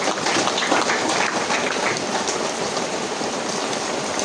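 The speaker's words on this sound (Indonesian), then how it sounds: "Mari kita tepuk tangan." Dense, sustained applause from a crowd at a Democratic Party anniversary gathering in Puncak Regency, a steady wash of clapping that holds at an even level throughout.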